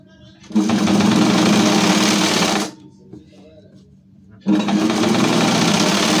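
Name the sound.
sewing machine stitching a V-neck nighty collar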